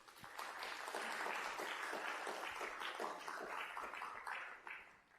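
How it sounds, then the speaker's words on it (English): An audience at a talk on deep learning for safe reprogramming applauds, a dense, steady wash of many hands clapping together. It stays loud for about four seconds before thinning out and fading at the end. "can we give one more round of applause for Brendan Swain?"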